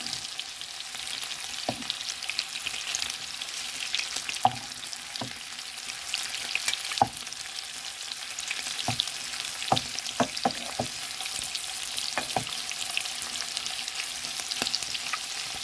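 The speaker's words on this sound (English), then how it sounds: "Now, you got to watch your shrimp, guys. Shrimp cook real fast. So, right now, I'm just going to flip these over." Shrimp sizzle in a hot pan with a steady, close hiss of frying oil, broken by scattered sharp clicks and taps as the pieces are flipped, no voices over it.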